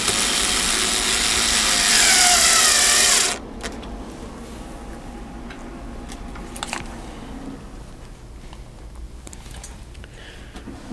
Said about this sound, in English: Let's get these screws on here.